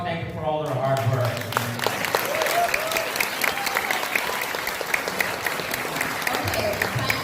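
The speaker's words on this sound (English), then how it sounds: "please give them a warm applause and thank them for all their hard work" Loud, sustained audience applause for the judges panel at a Miss Manila pageant, dense clapping filling the room after a brief voice at the very start, with scattered sharper individual claps standing out.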